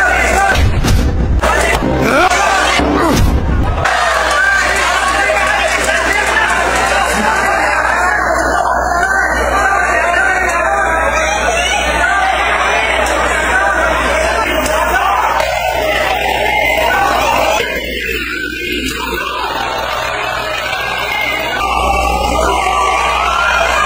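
A Japanese boxing crowd roars and shouts in support of their champion during a round-3 exchange, loud sustained cheering and yelling with bursts early on, filling the whole stretch of an arena bout.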